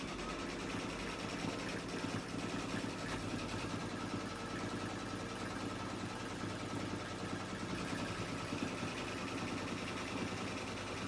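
An embroidery machine stitching the second color stop of a square design, giving a continuous quiet mechanical hum and rapid needle chatter that holds steady throughout.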